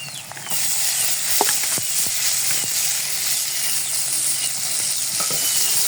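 Sliced onions sizzling steadily in hot oil with garlic and green chillies, stirred continuously with a few scraping clicks of the spatula against the pan; a broad, even frying hiss runs close and fairly loud throughout.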